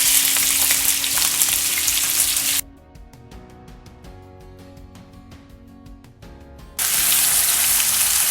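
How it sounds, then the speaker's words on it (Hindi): Boneless chicken and garlic frying in a hot pan, a loud close sizzle that drops to quieter crackling and stirring in the middle before the full sizzle returns. "ये देखें कलर आ गया है इसमें हम अपना चिकन डालेंगे।"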